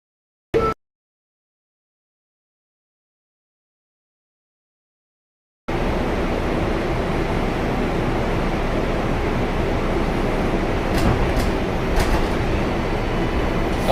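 A Manhattan-bound 7 local subway train runs after a short click and silence, a loud, steady rumbling roar of wheels and car noise with a few faint high squeals near the end.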